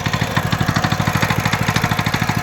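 A Zipper concrete power trowel's small engine runs after starting, a loud, close, steady pulsing putter with a fast regular beat and some mechanical clatter.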